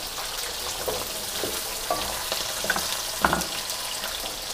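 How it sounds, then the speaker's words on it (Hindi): Diced medium onions fry lightly in a pan for chicken jalfrezi, giving a soft, steady sizzle with a few faint stirring clicks and pops, fairly quiet and with no talking. "हमने इनको गलाना नहीं है, बस हल्का फ्राई करना है"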